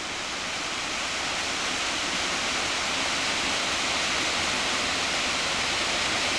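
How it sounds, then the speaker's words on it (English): A small roadside waterfall near Loch Long, its water running under the road, makes a loud, continuous rushing roar with no voices. "There's your first little waterfall."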